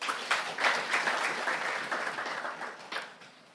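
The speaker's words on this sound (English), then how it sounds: "I think he deserves another round of applause." A forum audience gives a short round of applause, brisk clapping swelling early and then tapering off over a few seconds with no voices.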